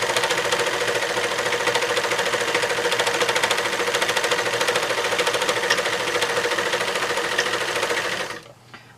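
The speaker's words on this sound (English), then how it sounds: "you're overlocking the edges, helps stop fraying, and you're sewing it together at the same time" A serger overlocker sews and overlocks fabric edges with a steady, fast mechanical whir and rapid needle chatter, running continuously at close range before stopping abruptly near the end.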